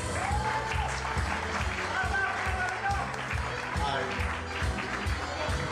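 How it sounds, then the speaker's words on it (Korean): Audience applause at the Korean Amateur Radio Association 2010 annual meeting and year-end party, continuous clapping mixed with voices and a rhythmic low thumping underneath. "박수 부탁드리겠습니다"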